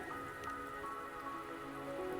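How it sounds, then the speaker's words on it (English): Rain patters steadily in the video game Wuthering Waves, a soft even wash of drops on surfaces with scattered faint ticks, fairly quiet and continuous throughout. "Don't worry, the rain won't last much longer."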